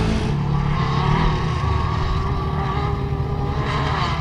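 A 2024 Can-Am Maverick R side-by-side engine roars continuously at high revs, loud and close, with a dense rasping drone that holds steady throughout without voices.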